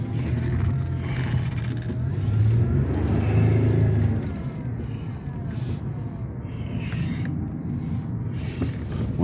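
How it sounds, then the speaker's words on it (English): A Pontiac Bonneville with anti-lock and traction control warning lights on idles with a deep rumbling engine, swelling into a louder rev before settling back to a steady low drone, close by. "Bonneville sounding pretty good."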